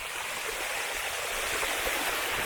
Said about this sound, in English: I'm literally riding in water.